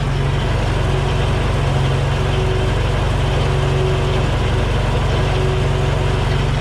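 Car engine idling with a beer-can patch on the muffler, a loud, steady, close-up exhaust rumble with an even low throb and no voices.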